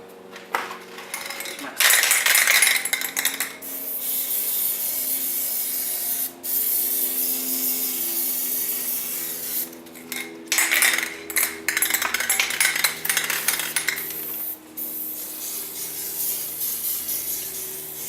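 Aerosol can of Plasti Dip rubber coating sprayed on a Halo 4 gravity hammer prop build, long hissing bursts broken by short pauses and light clinks of the can, with brief talk nearby.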